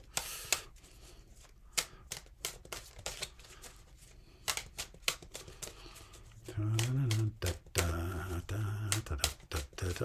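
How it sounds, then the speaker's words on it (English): Tarot cards are shuffled over and over in crisp, rapid riffling bursts, close and fairly loud, with a low voice briefly underneath toward the end. "I only stop shuffling when I feel it's right."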